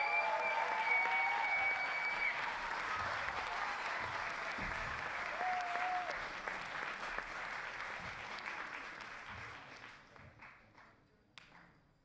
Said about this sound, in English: An applause.